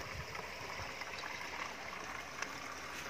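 Irrigation water flows steadily through a small vegetable garden with onions, a soft continuous trickle and rush of water heard alone at low volume.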